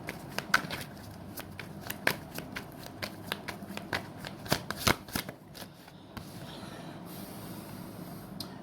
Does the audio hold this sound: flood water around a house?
no